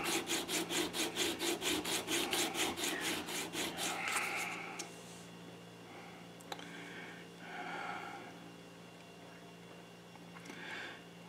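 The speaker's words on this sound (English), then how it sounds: "I'm just sanding the silver around the outside" Rhythmic back-and-forth hand sanding scrapes across sterling silver around a cloisonne bezel setting, close and regular for about four seconds, then stops, leaving quiet handling noises and a few faint scrapes.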